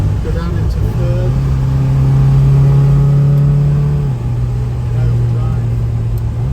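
A 1977 MG MGB roadster petrol engine with manual overdrive gearbox, heard from inside while driving as it shifts down into third, a steady mid-pitched drone that climbs in revs and then settles lower, loud and continuous under light talk.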